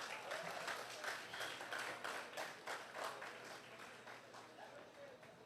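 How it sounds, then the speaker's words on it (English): An audience at a Barbados Labour Party annual conference awards ceremony breaks into dense, sustained applause that fills the room, then gradually thins and softens toward the end. "Give him another round of applause."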